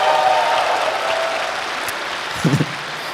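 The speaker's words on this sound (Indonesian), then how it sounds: "Tepuk tangan semuanya." A stand-up comedy crowd claps after the host's welcome, applause fairly steady at first and gradually thinning, with a brief thump near the end.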